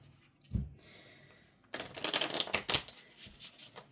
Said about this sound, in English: I think we need a shuffle.